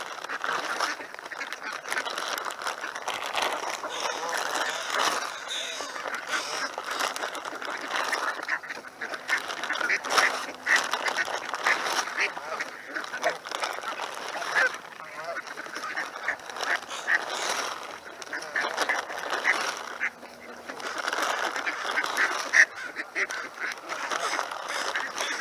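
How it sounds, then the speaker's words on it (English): Ducks and geese fly over a Seattle neighborhood, a dense, continuous chorus of quacking and honking at moderate distance for the whole stretch, with no talk. "Some flying duck action."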